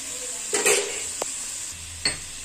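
Onions and green chillies fry in a pan over a medium gas flame, a steady close sizzle with a few brief clinks and scrapes as a spoon stirs them.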